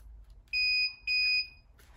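A mug sublimation heat press beeps twice when it reaches temperature, two clear, shrill electronic tones about half a second each with a short pause between them, close and without speech over a faint room hum.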